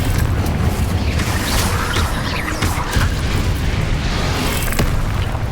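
A Confringo blasting curse goes off in Hogwarts Legacy with heavy, rumbling booms and crackling bursts that fill the whole stretch, loud and sustained without a clear break.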